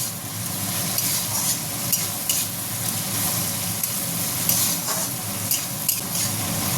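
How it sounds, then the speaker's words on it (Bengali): Onions frying in a pan for a lightly spiced Bengali mutton curry, a loud continuous sizzle with repeated scraping stirs close to the mic, no voices. "এবার পেঁয়াজটা ভেজে নেবো ভালো করে, আবার একবার নাড়া দেবো।"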